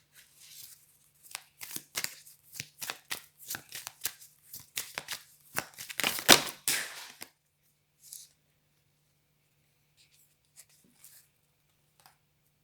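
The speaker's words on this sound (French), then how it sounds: "je prends les cartes qui sont restées dans mes mains" Tarot cards shuffled and handled at close range, a quick run of dry papery riffles and slaps for several seconds, then a few isolated soft card taps amid quiet.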